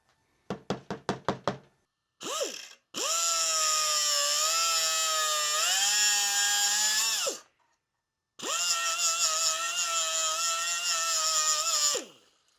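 A steel torsion spring for a custom Porsche brake pedal box is trimmed with a power tool. Quick knocks open it, then two long, loud, steady whining grinding runs follow with a short pause between them, close up and with no talking.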